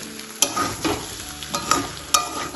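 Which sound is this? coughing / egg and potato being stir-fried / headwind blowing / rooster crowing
egg and potato being stir-fried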